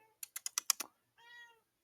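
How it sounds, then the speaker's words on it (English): A house cat meows once in a drawn-out call, preceded by a quick run of keyboard typing clicks close by; no one talks. "my cat just meowed"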